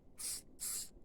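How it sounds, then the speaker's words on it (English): Two short hissing bursts of spray paint from an aerosol can, each lasting about a fifth of a second, sprayed into a cup, close by with a brief pause between. "I'm just going to spray it into another cup"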